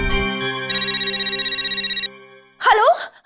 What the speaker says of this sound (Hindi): एक सेकंड, मैं रोशन आंटी को फोन करती हूँ